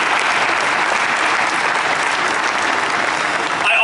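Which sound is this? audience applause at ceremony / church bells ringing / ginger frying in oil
audience applause at ceremony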